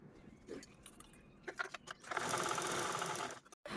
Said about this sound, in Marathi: जशी मार्किंग केली तशीच आपल्याला यावरती स्टिच पण करून घ्यायचं आहे तर चला स्टिच करते